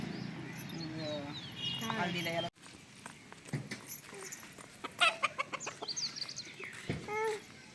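Chickens cluck and call in a rural farmyard, short bursts scattered through the clip amid people talking close by and other farmyard noise.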